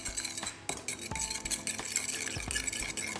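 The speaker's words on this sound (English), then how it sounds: "Give those a nice whisk up." A whisk beats two eggs with a teaspoon of Dijon mustard in a bowl, producing quick metallic scrapes and clinks in an uneven rhythm, close and fairly quiet, with no talking.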